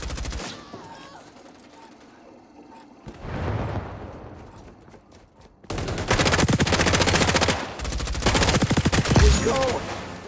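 Automatic turret gunfire in the XDefiant shooter game, rapid bursts that rattle loudly in the second half after a quieter stretch of distant combat noise.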